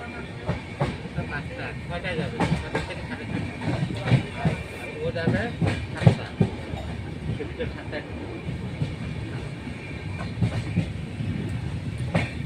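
A train passing near Cooch Behar, a continuous rumble with rhythmic clickety-clack of wheels on rail joints and occasional louder knocks, steady throughout under faint background voices.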